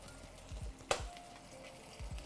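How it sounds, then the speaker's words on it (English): A beef donair meat patty sizzles softly in a pan, a low steady fry with a few small pops and one sharp clink partway through, heard close with no talking. "Hear those meat sizzles, my friends?"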